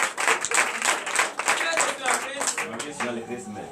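Clapping and cheering from a congregation during a night church worship and deliverance service, loud and continuous with voices shouting over the claps.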